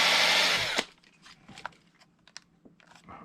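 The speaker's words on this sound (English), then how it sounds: "Oh wow, drill is running out of juice." Cordless power drill with a weakening battery boring holes while mounting a bulletproof wing on an RC car, one loud steady whir at close range that cuts off after under a second, followed by scattered light clicks and handling noises.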